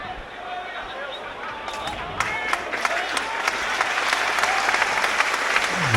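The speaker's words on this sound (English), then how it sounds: "That's the applause for Callum Howes now warming up in front of us." Football crowd at York City's LNER stadium applauding a substitute warming up during a National League match against Hartlepool, steady broad clapping and crowd noise that swells louder after two seconds and holds, with a commentator's voice mixed in.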